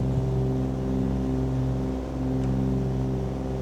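Cessna 414 twin-engine aircraft running with one engine failed, a steady, loud droning hum holding even throughout, heard from inside the cabin.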